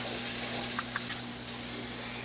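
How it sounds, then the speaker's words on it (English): A steady, close sizzle of green onions, ham, bacon and carrots frying in a pan for fried rice, with a faint electrical hum beneath and no talking. "frying the green onions and the ham and the bacon and the carrots"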